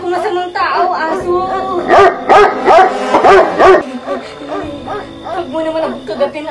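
Close, loud barking and yipping from a dog mixes with someone speaking over it, the barks clustering in a quick run midway before easing off.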